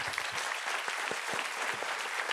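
An audience at a conference about the Belem sailing ship claps warmly, a dense burst of applause with sharp individual claps standing out, sustained evenly for a couple of seconds.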